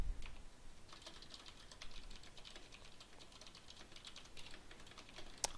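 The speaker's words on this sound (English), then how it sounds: "So make sure I can type every key." Rapid typing on a computer keyboard while working in the 4coder editor, a steady patter of close, light key clicks running throughout with no talk.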